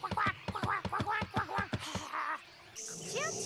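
A cartoon duck-like bird in the One Piece anime lets out a rapid run of about a dozen loud, rhythmic quacking squawks, followed by a brief whooshing effect and a rising chirp near the end.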